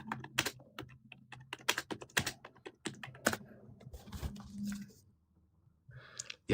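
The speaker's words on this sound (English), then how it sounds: "you're a lot faster at typing than I am" Quick bursts of typing on a computer keyboard, close and crisp, with rapid clustered keystrokes, short pauses between runs, and a brief lull near the end.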